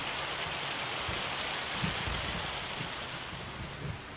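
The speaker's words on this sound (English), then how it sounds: "Well, I'm just walking in the hail." Hail pours down in the Farming Simulator game world, a dense, steady, rain-like patter with faint low thumps, continuous and enveloping, with no voices.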